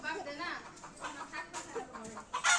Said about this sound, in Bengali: এই যে মুরগিদের খাবার দিছে আমার ছেলে